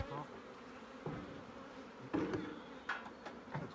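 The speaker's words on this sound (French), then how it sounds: "vous voyez là les abeilles sont en train de rentrer toutes" Honey bees return into a hive at an acacia-honey apiary near Fontainebleau, a steady close buzzing drone broken by a few brief louder knocks and handling noises.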